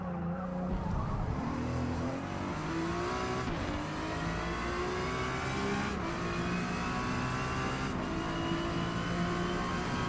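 A Ferrari race car engine roars in the Forza Motorsport racing game, a continuous high revving drone with rising and falling gear-change sweeps and faint tire squeal, steady and loud throughout.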